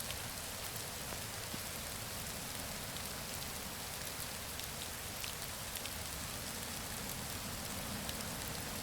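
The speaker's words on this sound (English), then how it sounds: "I would actually like to build a shelter to get out of the rain." Constant rain pours down in the voxel survival crafting game Rising World, a dense, even hiss of falling drops that fills the whole stretch with no voices.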